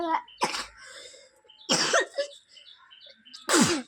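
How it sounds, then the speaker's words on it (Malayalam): Three sharp, loud bursts of coughing spaced about a second and a half apart, close by, with quiet faint sounds in between. "ചുമയാണ്"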